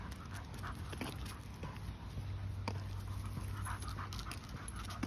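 A dog panting hard and fast after exertion on city streets, rapid rhythmic breaths close by, with faint footsteps and street noise around it.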